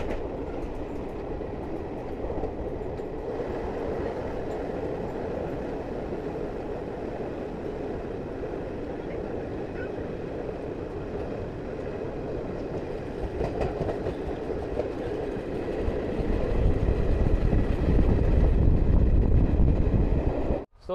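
Garib Rath express train on the New Delhi–Ranchi route rumbling steadily along the rails, a continuous close rolling roar heard from inside, growing louder and heavier near the end before a sudden cutoff.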